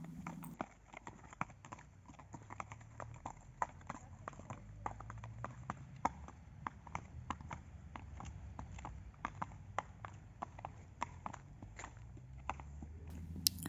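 Several horses walk down a trail of stone and dirt, their hooves clip-clopping in a steady, close rhythm of sharp knocks over soft low rumble, with no talking.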